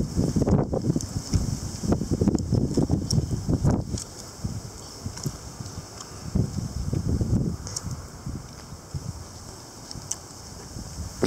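Strong gusty winds as an arctic front arrives with ice pellets, roaring buffets and rumbling across the microphone that surge and ease in waves, loud and close.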